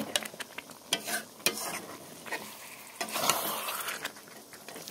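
Chicken pieces being stir-fried in a pan for a Bengali chicken curry, with a continuous sizzle broken by sharp spatula scrapes and knocks at irregular intervals, close and moderately loud, no talking.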